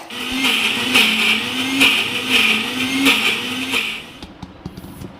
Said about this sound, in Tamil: இதை மிக்சி ஜாரில் போட்டு நம்ம அரைச்சிக்கலாம்.